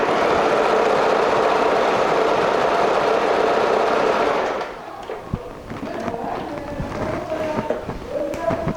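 An Usha Allure sewing machine runs a darning stitch with a fast, even whirring for about four seconds, then stops, leaving soft clicks and handling noises.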